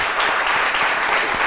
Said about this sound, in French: Merci donc d'applaudir ceux qui sont avec nous aujourd'hui.